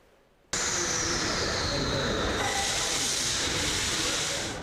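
Metro train at Demiivska station in Kyiv roars in abruptly after a quiet moment, then holds a loud, steady rushing hiss and rumble that fades only slightly toward the end.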